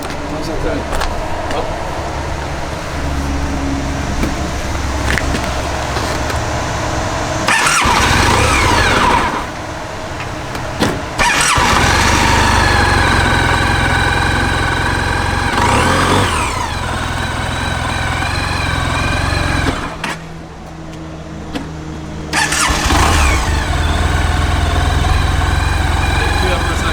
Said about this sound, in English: Sean, give me a little bit of throttle there